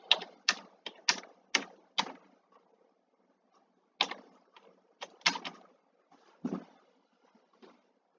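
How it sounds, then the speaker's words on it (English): A hotspot password being typed on a keyboard, heard as a quick burst of five sharp, close key clicks, a pause, then several more scattered keystrokes in a quiet room. "So type in the password for it."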